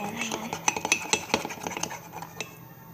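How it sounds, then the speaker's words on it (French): A spoon stirring mug cake batter in a mug, quick uneven clinks and scrapes of metal on ceramic at close range, with faint background sound and no talk. "Voilà, donc là, je remue."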